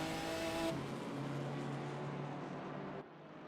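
An IRT BMW race car in a racing game passes at Kyalami in the mist: a steady engine roar with a gear change partway, then a sudden drop as it moves away.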